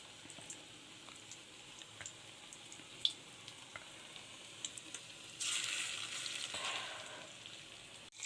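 Spiced vada dough balls dropped into hot oil in a wok give a soft, steady sizzle with scattered small pops and ticks, then a louder hissing burst of frying near the end, with no talking.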